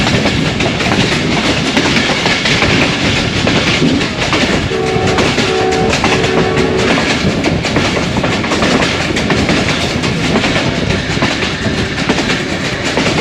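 A train travels the Narowal branch line from Lahore to Narowal, with loud, continuous rumbling and clattering of wheels on track, broken midway by a few short horn blasts.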